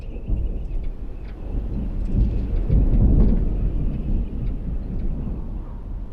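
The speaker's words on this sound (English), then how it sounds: "there's thunder in the distance." A low, rolling rumble of thunder builds and swells for several seconds before easing off, with faint rain and no voices.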